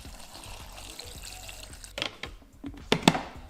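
Water is poured into a blender already holding peaches, raspberries and apple concentrate for summer peach juice, a soft trickle that gives way to louder splashing bursts near the end.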